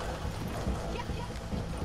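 Horse hooves clip-clopping in Red Dead Redemption 2, a steady rhythmic trot heard throughout beneath a voice.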